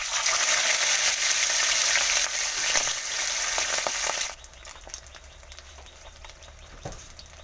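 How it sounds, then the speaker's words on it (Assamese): Pieces of koi fish fry in a little oil in a hot kadai, giving a loud, dense sizzle that drops to a quieter crackle partway through, with no talk. "এতিয়া মাছ ফ্ৰাই কৰি ল'ম।"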